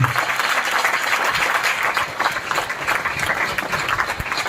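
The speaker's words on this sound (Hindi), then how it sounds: "तालियां रुकनी नहीं चाहिए," Students at a seminar applaud a guest speaker, a loud, dense, continuous wash of clapping from a large crowd filling the room with no break and no talk.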